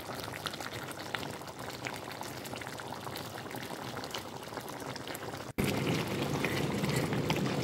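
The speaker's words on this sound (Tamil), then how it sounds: "நல்லபடியாக கொஞ்சம் தண்ணியும் விட்டு நாங்கள் திருப்பவும் மூடி இதை அவிக்க வேணும்" Spicy crab curry bubbles in a covered pot, a steady close hiss and crackle of boiling liquid that cuts out for an instant and then returns slightly louder.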